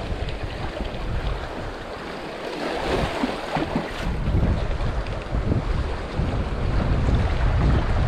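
Strong wind roars across the microphone in a constant, loud rush on a rocky shore at low tide, with a low rumbling of water underneath.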